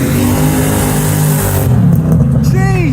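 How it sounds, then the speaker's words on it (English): A 5-litre Coyote V8 Ford Mustang revving hard as it leaves a car meet, a loud, dense engine roar that drops off sharply, followed by rising rev sweeps with crowd noise around. "5 litre V8 goodness, here we go, Ford Mustang Coyote"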